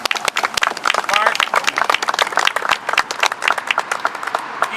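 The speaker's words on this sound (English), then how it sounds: "Everybody give him a round of applause for showing up today." A crowd applauds at a gun rights rally outside the Oregon State Capitol in Salem, close, uneven clapping with distinct individual claps, mixed with cheering voices.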